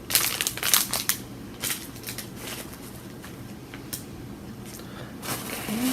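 A small plastic zipper bag is handled up close, giving bursts of crisp crinkling and crackling, denser at the start and end, with quieter rustles between.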